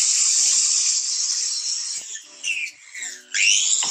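A high-pitched polishing machine whines steadily while cleaning classic Mini engine parts, its tone dipping and rising as the parts press against it, loud and close with no talk.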